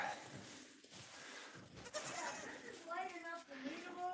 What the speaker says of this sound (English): Hey, brown goat.